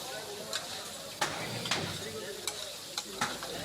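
Crab curry in spices is stirred with two spatulas, a roughly regular series of scraping clacks over a steady sizzle, with a voice talking alongside.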